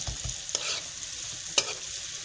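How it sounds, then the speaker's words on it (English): Onions sizzle softly in a frying pan while a utensil scrapes through them in a few distinct stirring strokes, quiet and close, with no talking. "You want the onions to go a bit transparent."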